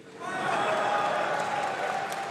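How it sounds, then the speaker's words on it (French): Audience applause at a Zemmour political rally in Villepinte, a dense, steady wash of clapping that swells in quickly and holds loud and sustained across the whole stretch, with some crowd voices mixed in. "je veux que nous les applaudissions"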